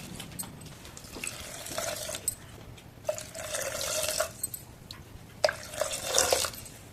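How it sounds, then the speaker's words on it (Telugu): Water is poured into a pot of split moong dal in several separate splashing pours with short pauses between them, close by and fairly quiet, without any talking. "దాంతో 4 బౌల్ అయితే వాటర్ వేసుకోండి"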